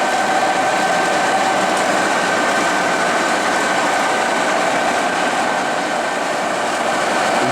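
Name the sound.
Webster Bennett vertical turret lathe running at 45 RPM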